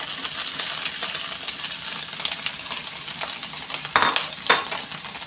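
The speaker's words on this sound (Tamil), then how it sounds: "இந்த ஸ்டேஜில் வந்து ரைஸ் ஆட் பண்ணிடுவோம்" Cooked rice tipped into a pan of fried fish and aromatics for fish fried rice, giving a steady sizzle with light scraping, spoon clinks and a couple of sharp metallic knocks near the end.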